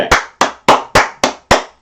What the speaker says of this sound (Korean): 박수 한 번씩!